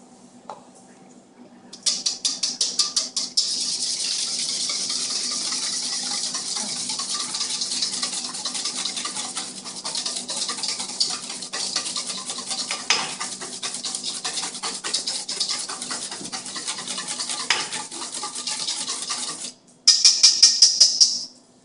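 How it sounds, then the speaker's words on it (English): Eggs being beaten for coffee cake batter, a steady whisking and scraping against a bowl that runs continuously for about eighteen seconds before stopping, with a short louder burst near the end. "I'm going to beat the eggs"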